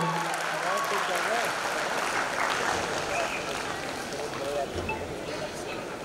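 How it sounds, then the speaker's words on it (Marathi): An audience at the Maharashtra State Film Awards claps in a dense, sustained patter, with voices speaking over the applause throughout. "जोरदार टाळ्या जरा होऊ दे, जरा जोरदार टाळ्या"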